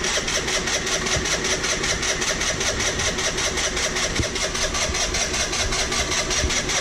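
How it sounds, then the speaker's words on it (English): A cheap automatic moped's small engine is cranked and sputters into a steady, uneven idle, with a continuous close mechanical chatter held at an even loudness throughout and no talking. "Let's see if this thing will start."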